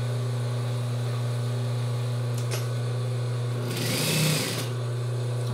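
Sewing machine stitching the side seams of child's overalls, a steady close mechanical hum with a louder, busier whirring burst near the end.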